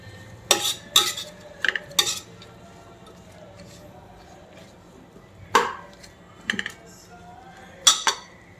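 Mutton biryani ingredients being sauteed in a pot, Chennai style, with sharp metal clinks of a ladle against the pot in scattered bursts over a low steady background, no talk.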